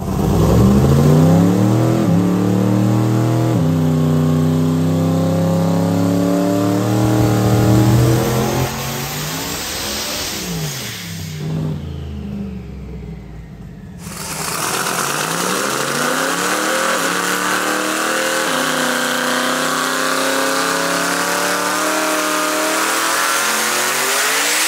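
A turbocharged car on a dyno with the boost turned up revs hard through a long rising pull, drops back with a brief lull, then climbs and roars again, loud and close with no talk.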